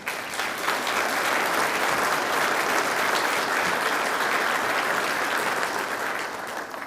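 An audience at a manufacturing excellence awards evening held by a regional chamber of commerce breaks into sustained applause, a dense wash of clapping that swells quickly, holds steady, then begins to fade.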